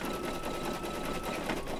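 An embroidery machine stitches a Valentine placemat in the hoop, a steady, close, rapid needle chatter running continuously with no talk.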